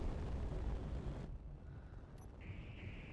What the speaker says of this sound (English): Oh, my gun's just fired.